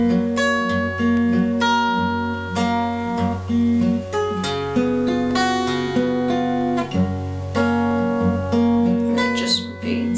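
Acoustic guitar plays a song's chorus, a steady fingerpicked pattern of ringing notes over sustained low bass strings, close and clear with no talking.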